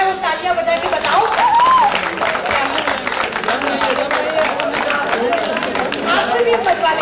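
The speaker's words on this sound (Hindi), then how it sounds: "तो एक बार सारी लड़कियां जो है वो तालियां बजा के बताओ।" Girls in a college auditorium audience at a comic poetry event clapping, a dense sustained round of applause close and loud, mixed with crowd chatter and a voice talking over it.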